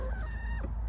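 A Copper Maran hen, a black chicken breed, gives a short, close cluck lasting under a second over a steady low background hum.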